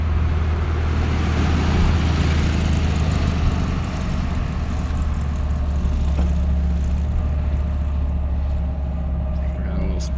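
A 1970 Volkswagen Karmann Ghia coupe driving in first gear of its automatic transmission, with a steady loud engine drone and road rumble throughout, close and continuous.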